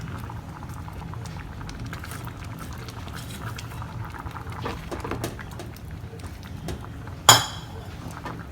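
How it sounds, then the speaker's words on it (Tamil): A pot of lentil stew for bisi bele bath simmers with a soft, steady bubbling, broken near the end by a sharp metallic clink of a utensil. "ஸோ இதையும் திருப்பி நல்லா கொதிக்க விடணும்"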